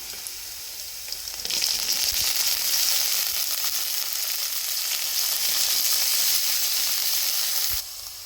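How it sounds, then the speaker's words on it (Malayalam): Sprouted green gram dropped into a pan of sautéed onions for a Kerala thoran, setting off a loud, steady sizzle that swells suddenly, holds for several seconds, then drops away. "ഉള്ളി ഒന്ന് വാടിയതിന് ശേഷം നമുക്ക് ചെറുപയർ ഇട്ട് കൊടുക്കാം"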